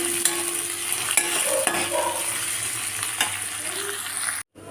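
Onions with ginger and garlic frying in hot oil for a duck curry, continuous close sizzling broken by several spatula scrapes and stirs, ending in a brief moment of silence.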